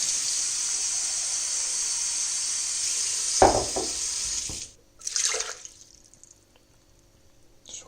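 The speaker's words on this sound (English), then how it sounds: "So we are putting somewhere about 100 grams of water." Water running steadily from a tap, about 100 grams for a fruit, yogurt and raspberry smoothie, a bright even hiss that stops midway, followed by a couple of short splashes and clinks in a quiet kitchen.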